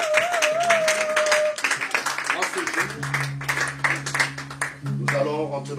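A church congregation at a pastor's ordination service claps and applauds to acclaim the Lord, rapid dense clapping throughout, mixed with loud singing, shouting and a sustained musical drone.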